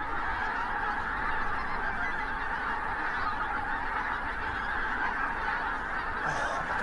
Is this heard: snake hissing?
no